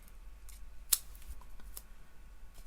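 Scissors snip the edges off dimensional craft packets in a few quick, quiet cuts, one sharper snip standing out near the middle, with faint room noise between.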